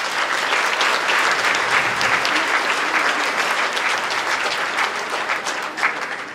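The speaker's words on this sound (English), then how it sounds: "a round of applause" A large audience at a Christmas gala gives sustained, dense applause, a continuous wash of many hands clapping at steady loudness throughout.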